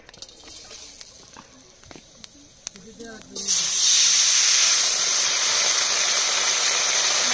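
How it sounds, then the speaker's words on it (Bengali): Water comes to a boil in a pot of taro flower parts being parboiled: a few clicks and light clatter, then a sudden loud, continuous rush of hissing steam. "ঢাকা দিয়ে সিদ্ধ করে নেব। জল ফুটিয়ে গেছে"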